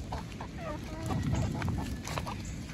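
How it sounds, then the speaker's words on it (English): Chickens and a rooster cluck and squawk in short scattered calls, close by and moderately loud, while being herded and caught. "I just gotta get the rooster."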